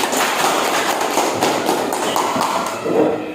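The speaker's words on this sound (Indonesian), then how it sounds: "Tepuk tangan untuk kita hari ini." A class of students claps together during a school lesson in Indonesia, a dense, steady patter of hands filling the room at close range throughout, with brief louder swells.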